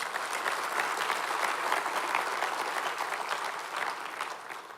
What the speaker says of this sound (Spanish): Dale un aplauso al Señor más fuerte